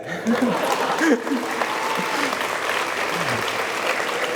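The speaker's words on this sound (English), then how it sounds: "Thank you, you can clap." A crowd claps steadily in a sustained round of applause at an anniversary awards night, with a voice speaking briefly over it at the start.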